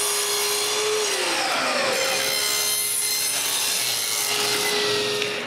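Walnut veneer being cut to width with a hand tool, giving a steady, close scraping-and-slicing sound that carries on alone for several seconds with a faint shifting whine underneath.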